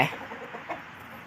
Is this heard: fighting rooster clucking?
yes